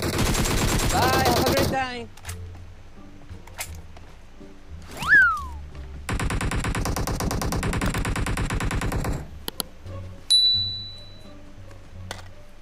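Gunfire in the mobile battle royale game PUBG Mobile: two long bursts of rapid automatic fire, one at the start and a longer one midway, with scattered single shots and pings between them, fairly loud and close.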